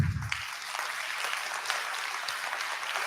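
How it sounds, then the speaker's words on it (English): Sustained applause from a conference audience at an ocean-resilience adaptation forum: a continuous, even wash of many hands, fairly soft and heard from a distance. "I'd like to give them a round of applause"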